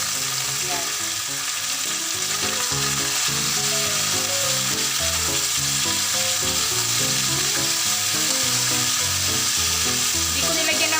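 Chicken legs fry in a non-stick pan without oil, a loud steady sizzle and crackle close up, with scraping and stirring clatters in an irregular rhythm throughout.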